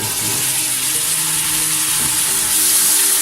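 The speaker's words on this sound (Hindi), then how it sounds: "ये हमारे प्याज जो हैं वो गोल्डन ब्राउन हो गए। तो अब हम इसके अंदर अदरक लहसुन का पेस्ट डालेंगे।" Golden brown onions sizzle steadily in a hot pan for chicken biryani as ginger garlic paste is added, a dense, even frying hiss close up with no pauses.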